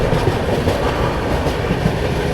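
The Swatantrata Senani Express gathers speed, a loud, dense rumble of wheels on rails with steady clickety-clack beats running throughout, no voices.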